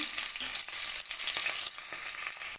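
Boiled eggs frying with salt, chilli powder and turmeric for egg biryani, a dense close sizzle broken by quick repeated stirring scrapes, with no speech.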